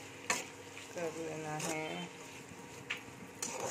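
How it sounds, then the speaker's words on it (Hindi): Okra and onion with spices stirred in a pan, with soft scraping and clicking of the spoon and a light sizzle, a few sharp taps, under a voice speaking. "और इसमें मिक्स कर लेना है भिंडी और प्याज, अच्छे से मसाले को मिक्स"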